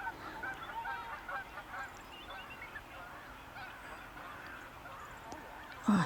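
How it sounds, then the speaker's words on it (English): Distant Canada geese honking in scattered calls over a steady outdoor background at Harrison, with a louder burst of honks right at the end. "Canada geese."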